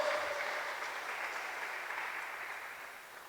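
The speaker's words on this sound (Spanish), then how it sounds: "dale un fuerte aplauso a Cristo" A church congregation applauds during a Spanish-language sermon, a steady wash of clapping that stays fairly faint and even throughout, with no voices over it.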